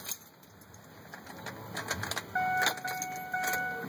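Ignition key being slid into and turned in a 2005 Ford F150, a few close metallic clicks and jingles of keys over a quiet cab with a steady electronic tone.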